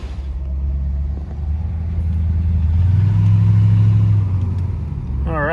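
An El Camino with 3.73 gears pulls away, its engine a low, steady rumble that swells into a heavier drone midway and then eases, heard close from inside the car.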